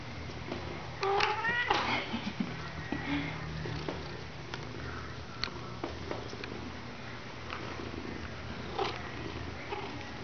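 An old male cat purrs up close, a soft steady rumble running under an adult's gentle talk, with a few brief sniffs and small rustles mixed in.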